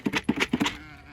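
Several sheep bleat in a quick run of about five wavering calls in the first two-thirds, fairly close and loud, ending in quiet. A person calls to the flock around them.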